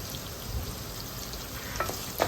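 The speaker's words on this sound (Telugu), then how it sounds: "సో ఇవి బాగా మనకి ఫ్రై అయిపోవాలి" Chillies, curry leaves, ginger and tomatoes fry in a pan as a soft, steady sizzle, with a couple of brief scrapes from stirring toward the end.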